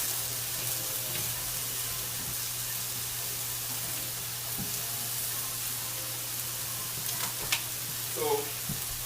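Ginger tossed and stir-fried in a pan for a black bean pasta stir fry: a steady, close sizzle runs throughout, with a few light clinks and scrapes near the end.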